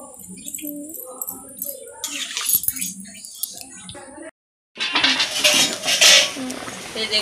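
A ladle scrapes and clinks against a cooking pot as koi fish curry is served out, metallic taps and knocks coming in bursts, with a brief pause before a louder stretch of clattering close by.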